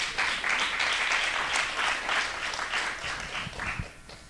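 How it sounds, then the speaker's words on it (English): An audience at a panel event on prosecutors in the community applauds steadily, a dense wash of clapping that holds for several seconds before tapering off. "You want to just give them applause to welcome them for being here?"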